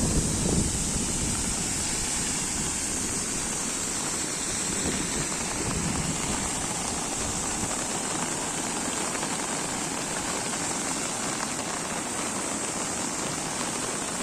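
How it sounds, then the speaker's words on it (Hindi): Rushing river water near Cherrapunji (Sohra) in misty, foggy hill country of Northeast India, a steady broadband roar with no breaks, loud and close throughout. "नदी का पानी।"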